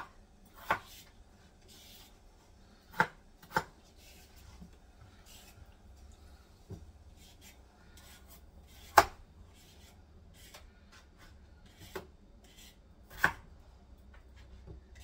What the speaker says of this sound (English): I'm going to help him out by chopping up some of these potatoes